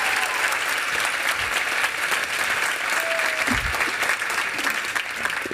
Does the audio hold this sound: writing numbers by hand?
no